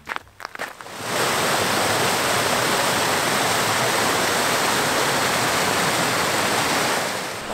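A small waterfall at Sligachan on the Isle of Skye sends out a loud, steady rushing roar that starts abruptly after a second of quieter sound and continues without a break.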